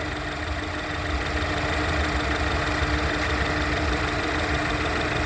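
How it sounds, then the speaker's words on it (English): A 2016 BMW 28i engine idles steadily and close by, a continuous low rumble with a faint rhythmic knock and no other sounds. "what I'm gonna do is take you out and show you the condition of the motor now."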